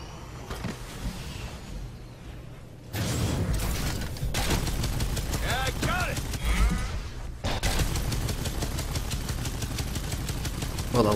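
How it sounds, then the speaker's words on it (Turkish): A minigun fires in long sustained bursts in the sci-fi hunting game Evolve, a loud dense mechanical roar that runs for several seconds, breaks off, then resumes amid other game effects. "Minigun'la sıkıyorum tak tak tak tak tak"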